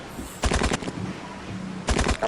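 Bursts of gunfire from the Dino Hunter: Deadly Shores hunting game, two clusters of rapid shots about a second and a half apart, loud and close with a low hum between.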